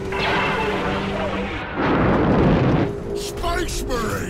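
Heavy weapons fire in the Space Marine video game, a loud roaring blast with rumbling booms that swell and fade amid dense battle noise, with a voice speaking over it.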